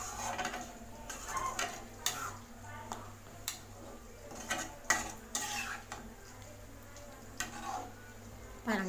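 Repeated scraping and clinking of a spoon stirring chicken gravy in a pan, with a soft sizzle underneath, the strokes coming in an uneven rhythm.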